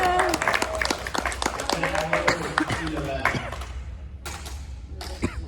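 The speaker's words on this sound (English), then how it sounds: "So give a big round of applause for Adalisa Zarate." Audience applause at a pop culture presentation, sharp separate claps from a small crowd with voices talking and exclaiming over them, thinning out toward the end.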